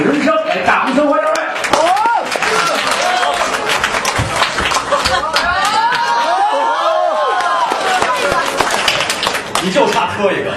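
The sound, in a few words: audience applause welcoming comedians on stage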